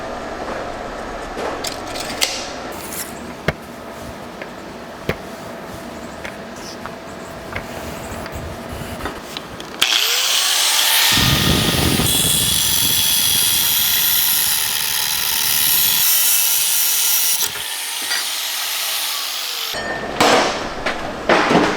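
Power saw cutting a piece of stock to length in a motorcycle shop while building a CX500 adventure bike, a loud steady whine for about eight seconds after a stretch of quieter workshop noise and tapping, then stopping abruptly.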